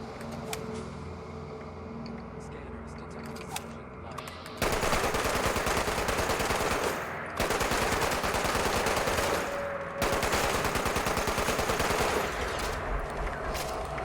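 Heavy automatic gunfire from the video game Fallout 76 during an enclave nuke silo mission, loud sustained bursts of rapid shots broken by brief pauses, following a quieter stretch of game ambience.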